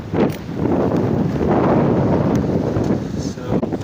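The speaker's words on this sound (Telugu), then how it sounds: "గాలి బాగా కొడుతుంది మామూలుగా" Strong wind blows outdoors, making a loud, steady rushing roar that buffets the microphone throughout with only slight surges, and no other sound stands out.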